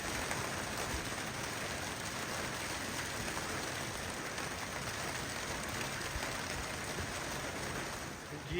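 Heavy rain pours onto a rooftop terrace in a dense, unbroken roar of drops, steady and loud throughout with no voices over it.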